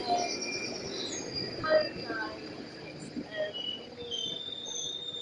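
A refurbished London Underground train runs along the track with a low rumble, and thin metallic wheel squeals rise and fade over several seconds. A faint voice sits underneath.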